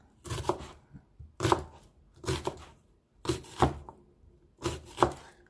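Onions rough-chopped with a knife on a cutting board for braised pork ribs with pickled mustard greens, a slow run of close chopping strokes in short pairs and clusters, five or six bursts with brief pauses between them.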